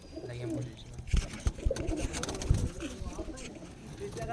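Home-bred pigeons, including kalsara birds, cooing in a loft, with close soft coos and scattered wing flaps and bumps; someone talks briefly at the start.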